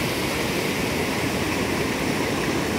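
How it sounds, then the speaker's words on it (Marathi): The Krishna River rushing past at Ramling Bet, Bahe Borgaon, Maharashtra, a dense, steady broadband roar of flowing water with no breaks or distinct gurgles, fairly loud and constant throughout. "शांत वाहणारी कृष्णा नदी तिथे खळखळून वाहताना आपल्याला दिसून येते"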